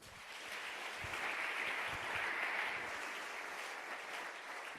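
A congregation in a French-speaking church breaks into sustained applause, a dense steady wash of clapping that swells slightly in the middle and holds at a fairly even level throughout, with no speech over it.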